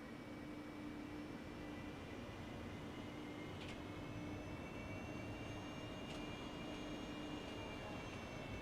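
An aircraft engine in a video game runs at full throttle for takeoff, giving a steady, even roar with a faint whine that holds throughout, with no talk.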